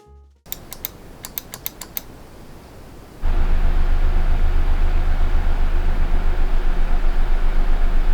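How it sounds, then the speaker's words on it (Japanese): A desktop PC's CPU cooler fan spinning up under full Cinebench R23 stress load in a Fractal Design North case, starting with a few faint clicks, then jumping to a loud, steady whir with a low pulsing hum. "シネベンチ R23 で CPU に最大まで負荷をかけた時の音がこんな感じだ"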